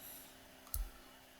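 A computer mouse gives a single sharp left click, close and faint, against quiet background hiss.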